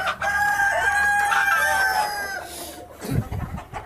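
A Plymouth Rock rooster crows one long, loud, drawn-out call close by on a breeding farm with hens, followed by a short burst of rustling and thumping.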